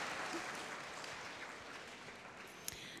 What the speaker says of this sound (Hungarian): Kérnék nekik egy nagy tapsot